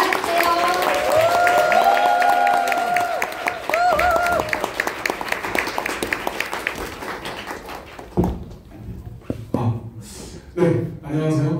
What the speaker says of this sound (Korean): 오늘은 더 에너지 듬뿍, 더 초롱초롱으로 큰 박수로 모시겠습니다